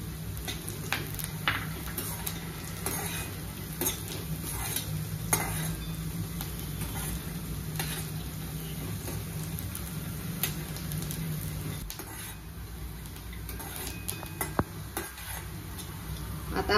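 Roasted peanuts sizzle with lightly golden onions in a pan, a steady low frying hiss broken by frequent scraping and clinking stirs of a utensil against the metal, close and continuous with no talk.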